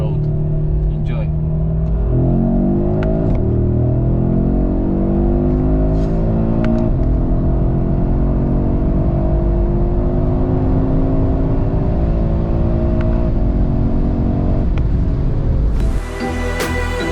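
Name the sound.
Audi RS3 8Y accelerating on a closed road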